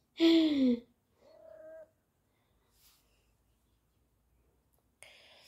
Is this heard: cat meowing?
yes